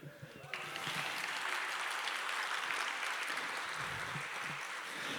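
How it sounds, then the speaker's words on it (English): Applause from a conference audience at the opening of the European Conference for Social Work Research in Munich surges in abruptly after a brief voice and holds as a steady, dense clapping from many people. "I never got so many applause for just one sentence, actually."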